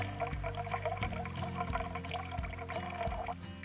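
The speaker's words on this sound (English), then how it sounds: "just squeeze the bag, the water container, through the filter" Water squeezed from a strong water container bag through a screw-on filter at a woodland camp, a faint close trickling and dribbling sound running continuously for a few seconds.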